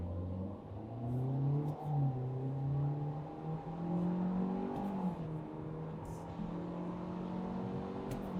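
A Kia K4 EX sedan with a 2-liter engine accelerates in sport mode, its engine note rising through gears with audible shifts and a rev dip, under faint road and wind noise toward highway speed.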